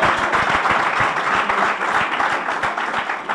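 A church congregation applauding the Lord, dense sustained clapping from many hands filling the room, loud and continuous throughout.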